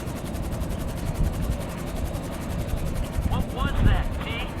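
A helicopter engine in the video game GTA 5, a steady low rumbling drone with rotor throb carrying on under the sound of someone talking.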